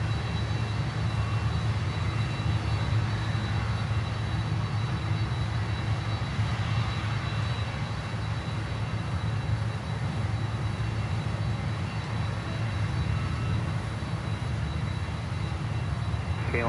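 Steady aircraft engine roar from a plane landing on runway 9 at Miami, a broad continuous rumble holding level throughout with no voices.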